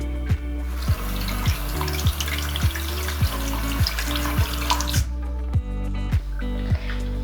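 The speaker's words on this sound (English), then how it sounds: "dunk them into your shampoo soapy water and go one way and the other way" Makeup brushes being swished back and forth in shampoo soapy water, with wet sloshing and squishing under a steady hiss and regular soft knocks about every half second. Constant tonal music plays underneath.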